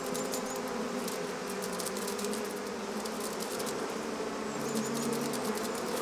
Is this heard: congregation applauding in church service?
no